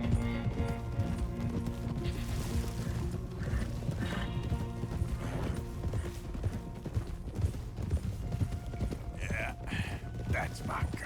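Horses in the Red Dead Redemption 2 story mode clop their hooves steadily and whinny, with mechanical creaks in the mix and people talking over the scene.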